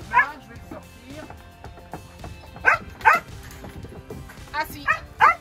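Competition dogs barking in a kennel, several sharp, loud barks and yips bursting out in irregular clusters over a steady background, with a person talking in between.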